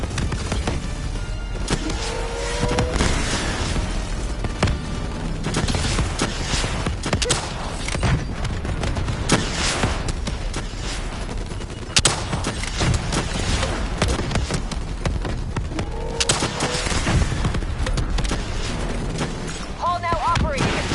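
Missiles exploding and gunfire during a boss fight in the Call of Duty Black Ops 3 campaign, a dense continuous barrage of booms, pops and shots, with voices speaking over the din.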